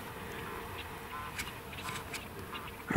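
Mallard and redhead ducks quacking faintly across a wintry hunting spot, a few scattered calls over a steady low background rumble, distant and soft.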